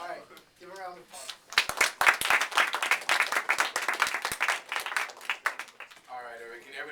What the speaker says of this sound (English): All right, give a round of applause